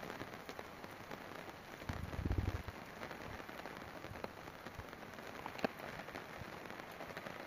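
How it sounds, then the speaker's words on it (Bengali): Rain falling over a distant wetland during the first rain of the year, a faint steady patter and hiss of drops heard from afar, with a brief heavier rumble partway through. "ও যে দূরে বিল, বিলের ভিতরে বৃষ্টি হচ্ছে।"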